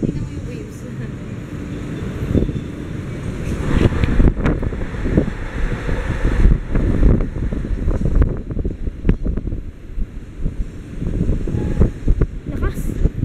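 Strong seaside wind roars and buffets the microphone in uneven gusts, with waves beneath and voices faintly mixed in.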